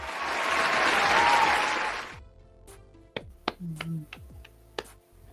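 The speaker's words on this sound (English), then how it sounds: "let's give ourselves a hand clap" A group of people claps hands together in a dense burst lasting about two seconds, then it stops abruptly and a few sharp, scattered clicks and taps follow in the quiet.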